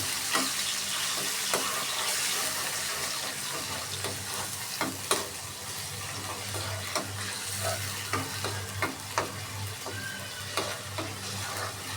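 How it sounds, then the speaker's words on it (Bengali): Onion paste fries in a pan while being stirred for a beef bone and bottle gourd curry, a continuous close sizzle punctuated by repeated scraping strokes of the spoon against the pan, with no speech. "একটা পেঁয়াজ বাটা ভালোভাবে নাড়তে থাকবো"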